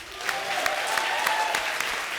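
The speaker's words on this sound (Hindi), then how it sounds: "रज्जो के लिए जोरदार तालियां" Studio audience at a Hindi comedy show clapping in a brief, dense burst of applause, steady and fairly close throughout.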